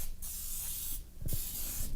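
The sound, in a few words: cooking spray sprayed onto a baking pan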